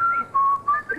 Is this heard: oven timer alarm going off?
no